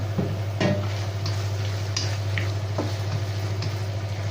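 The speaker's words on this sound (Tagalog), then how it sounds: "lagay na natin ang ating mince meat" Mince meat fries in a pan with a steady sizzle, broken by scattered scraping and tapping of a utensil stirring, close up and fairly loud, over a constant low hum, with no talking.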